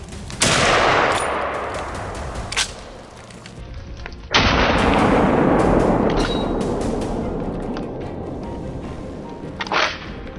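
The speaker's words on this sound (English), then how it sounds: "A swift, cold-blooded opening shot kicks off today's challenging hunt." A hunting rifle fires during a winter wild boar hunt in a deep forest. Two loud, sharp reports sound about four seconds apart, each followed by a long rolling echo through the trees, with a fainter crack near the end.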